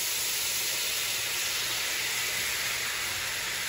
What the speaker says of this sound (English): That red wine's gonna deglaze that pan.